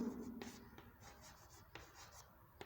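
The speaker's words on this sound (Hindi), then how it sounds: "मैं पहले हिंदी लिखता हूं" Pen handwriting Hindi text on paper, with soft scratchy strokes and light rubbing in short irregular bursts, faint and close, under quiet talk.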